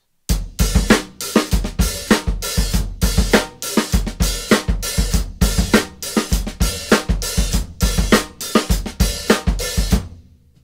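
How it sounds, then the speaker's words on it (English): A steady drum groove with kick and snare, open hi-hats washing on every offbeat, played loud and evenly for about ten seconds before stopping. "So you'd put your open hi-hat on all the and notes"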